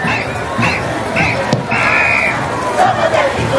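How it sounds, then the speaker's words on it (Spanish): Outdoor carnival crowd in Ayacucho cheering and clapping to welcome a dance group, loud and continuous with shouts and whoops over the clapping and voices mixed in. "Fuerte, fuerte los aplausos y bienvenidos una vez más a la Dirección Regional de Agricultura."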